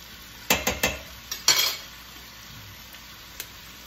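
Arroz caldo is stirred in a pot, a spoon scraping in a few quick strokes with light clinks over a faint background hiss, then going quiet with one last tap.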